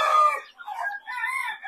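Chickens in a farm pen, a single rooster crow rising and falling in a few bursts, close and clear with no talk.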